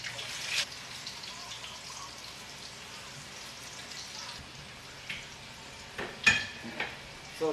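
Sausages fry in a pan with a faint, steady sizzle, joined near the end by a few louder clatters and clinks of kitchen utensils.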